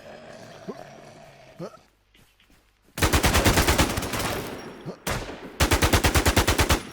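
Rapid automatic gunfire in the video game INFEST comes in two long, loud bursts of evenly spaced shots after some quieter game sounds, with voices talking nearby.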